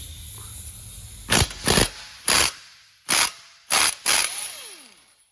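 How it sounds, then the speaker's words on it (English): Ingersoll Rand 1/2-inch impact gun removing an 18mm bolt from the tension link on a 2024 Jeep Grand Cherokee WL, firing six short, loud hammering bursts in uneven pairs, the final one followed by a fading air hiss. "And I'm going to use my Ingersoll Rand 1/2-inch gun to remove this one."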